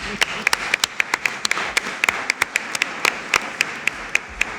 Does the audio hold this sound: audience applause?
yes